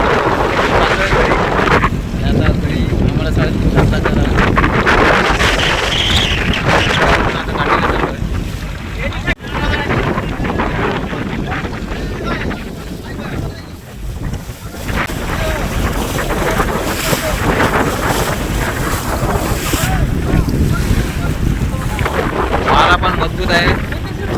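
Strong wind buffets the microphone on a boat in a creek near Arnala on the Maharashtra coast, a loud continuous roar that gusts and eases, with speech partly buried underneath.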